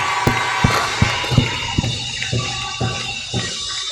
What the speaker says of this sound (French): Applaudissez pour mon pasteur, l'apôtre Lambert.